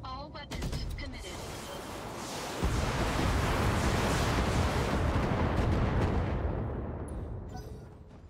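BattleTech mech weapons fire all at once in a video game. A few sharp cracks come first, then a loud, sustained roaring barrage rumbles on and slowly fades.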